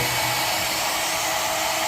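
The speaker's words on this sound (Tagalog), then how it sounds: "Blower na naman yan." A hair dryer blows with a steady, loud whooshing roar, close by and unbroken throughout.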